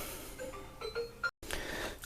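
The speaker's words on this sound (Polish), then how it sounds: "Telefon dzwoni." A short electronic phone ring chirps twice amid background noise, followed by a brief dropout and a louder hiss.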